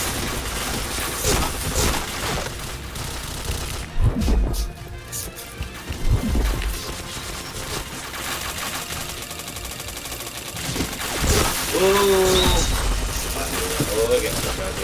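Rapid bursts of gunfire from the shooter game Point Blank crackle amid busy game sounds, with someone talking over the action at times.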